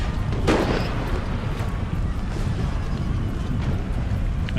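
Infantry firing a volley in a strategy video game, heard as a dense, steady roar of distant gunfire and battlefield rumble that holds at constant loudness with a few sharper cracks near the start.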